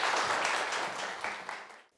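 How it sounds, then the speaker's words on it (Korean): Brief, dense audience clapping at a parenting talk concert in Daegu, a warm burst of applause that holds steady then fades out quickly at the end. "다시 한번 큰 박수 부탁드립니다"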